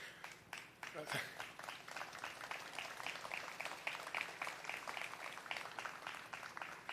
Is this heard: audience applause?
yes